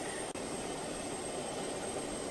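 Airplane engine in the Just Cause 2 video game, a steady broadband roar held at even loudness throughout, with one brief dropout near the start and no talking.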